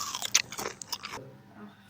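A bite into a crunchy, very salty Sicilian bignolati pastry, with a few sharp crackling crunches in the first second, then quiet chewing, heard up close with no talk.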